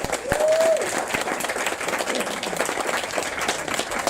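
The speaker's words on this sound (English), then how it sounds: "yes, big round of applause." Audience at a Prisoner Cell Block H 40th anniversary event in Sydney breaking into a big round of applause, a dense crowd of clapping hands that is loudest at the start and steady after, with a brief whistle or cheer early on.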